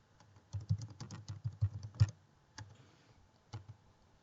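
A computer keyboard being tapped as a password is typed, a quick burst of close, crisp key clicks followed by a few isolated presses in a quiet room.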